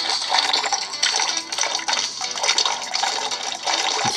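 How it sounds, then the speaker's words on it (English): Urine splashing into a toilet in the Drunk Sniper mobile game, a continuous bright watery trickle and splatter that surges and wavers in pulses, fairly close with no talk. "the urine, the pee, into the toilet"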